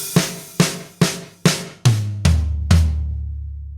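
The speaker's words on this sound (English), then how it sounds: "It goes snare, rack, floor, floor." Drum fill: seven single strokes move from snare down through rack tom to floor toms, each hit sharp and ringing, the last ones deeper and longer, close and loud with no talking.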